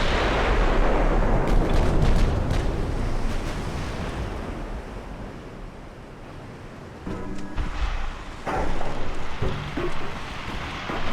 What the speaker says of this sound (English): these secondaries should be firing on their own in that direction